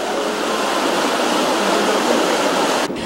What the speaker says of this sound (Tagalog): Pero sa Apari, biglang tumigil ang ulan, pero lalong lumakas ang hangin.